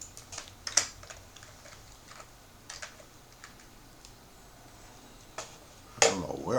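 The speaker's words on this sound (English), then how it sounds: "I'll show you that I can actually type" A computer keyboard is tapped in sparse, light keystrokes, with a few sharper clicks scattered through a quiet room and a louder cluster of key presses near the end.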